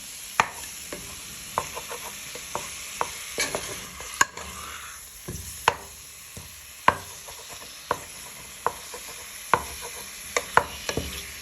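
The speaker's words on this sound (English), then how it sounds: "Just give them a little stir." Pieces of spicy pork stirred in a hot, sizzling pan with a wooden spoon, giving a faint continuous sizzle broken by regular sharp scrapes and knocks of the spoon, about one every second.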